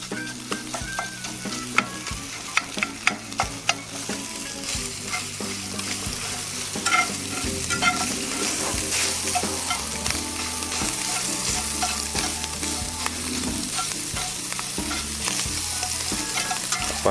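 Ground sausage sizzles steadily in a pan for breakfast gravy, a continuous close frying hiss with sharp scraping and clattering strokes of a utensil near the start, the sizzle growing fuller and louder midway.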